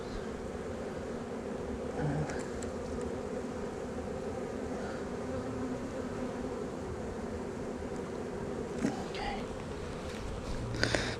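Honey bees buzz steadily in a dense, continuous drone while being installed into a nuc hive, the swarm close and constant with occasional louder passes of individual bees near the listener.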